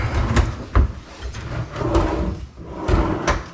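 Soft-close drawers on a building project are slid open and shut repeatedly at close range, giving muffled wooden thumps and sliding rumbles in an irregular rhythm, with no talking.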